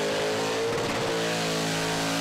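Show-quality ute at a car show revving hard, a loud, dense engine roar holding steady with rising harmonics, close and continuous with no talk.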